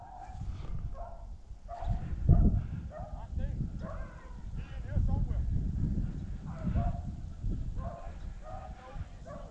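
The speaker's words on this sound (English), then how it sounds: "Man, these hounds running everywhere." Hounds baying on a rabbit hunt in Missouri, repeated yelping cries rising and falling at a middle distance, with people talking beneath and between the calls.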